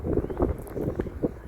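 Wind blowing at Lake Naivasha, gusty buffeting against the microphone in uneven low bursts, close and moderately loud.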